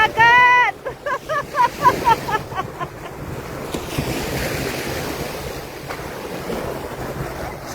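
Sea waves washing onto a beach in Dubai at sunset, a steady wash of surf and wind noise after a brief opening of excited voices, with children's voices faintly in the background.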